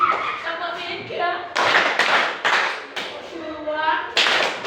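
A group claps their hands in counted patterns, sharp bursts of claps breaking in between spoken instructions.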